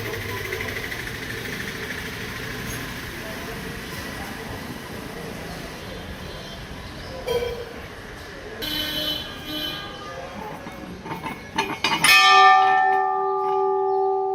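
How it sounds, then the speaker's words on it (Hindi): A temple bell rings out near the end, its clear tone ringing and fading over a busy background of murmuring voices and ambient noise. "सबसे पहले शुरुआत करिए हमने घंटी बजा के"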